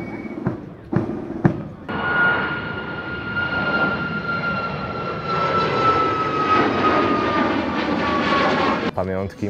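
An F-35 fighter jet at an air show passes as a loud sustained engine roar with a rising whine, lasting most of the stretch after a few sharp clicks at the start. It is strong and near, then cuts off abruptly at the end.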